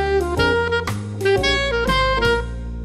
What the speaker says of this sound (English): The phrase is built from what's commonly called the major blues scale.